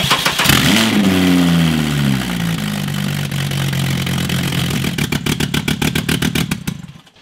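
A Mk3 2.5-litre turbocharged engine cranks and catches on its first start, then runs loud and raw with no exhaust fitted, a rough, open rattle, ending in a rapid sputtering idle before cutting out.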